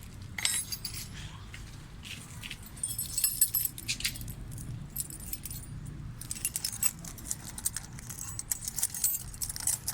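Keys jingle and clink at the rear door of a Toyota Revo while it is unlocked by key because the power lock has failed. The metallic rattling is steady and close over a low background hum, with no speech.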